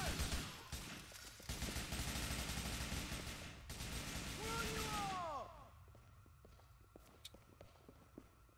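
Gunfire in Grand Theft Auto IV, a sustained loud stretch of shooting for several seconds that cuts off abruptly, followed by quieter scattered clicks and faint game noise.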